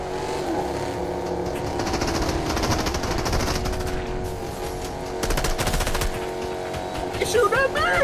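Automatic gunfire in a Fortnite match rattles in rapid sustained bursts aimed at the player, loud and continuous, mixed with vehicle engine noise and a player talking over it.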